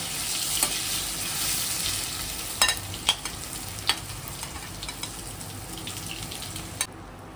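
Boiled potatoes frying in oil in a pan, a continuous soft sizzle with several sharp clinks and scrapes of a utensil stirring, ending abruptly.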